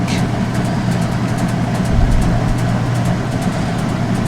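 A top-loading washing machine churns steadily through a laundry cycle, producing a loud, continuous low rumble and hum with a faint rhythmic swish and no talking.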